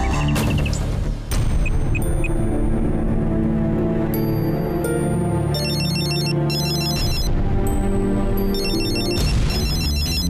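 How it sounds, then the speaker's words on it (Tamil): A telephone rings in a Tamil TV serial scene, with a loud electronic ringtone repeating in steady bursts of bright chirping tones for the whole stretch and no voices. "வேதவழி ஃபோன் பண்ணுறாங்களே"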